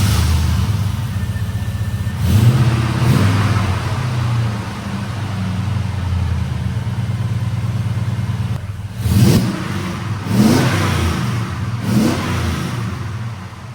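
A 2000 Chevrolet Silverado with an LM7 5.3L V8 revs through a 22-inch MagnaFlow muffler, a deep idle rumble broken by about four sharp throttle blips that rise and fall, loud and close.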